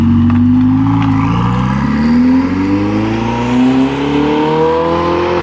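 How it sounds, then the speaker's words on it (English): A Ferrari 488 supercar pulls away at an Italian car meet, its engine loud and close, rising steadily in pitch as it accelerates through a smooth rev. "Oh, 488's on the move."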